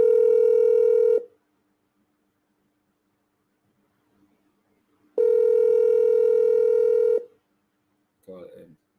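Telephone ringing in two long steady electronic tones with a pause between, loud and close, followed by a brief burst of a voice.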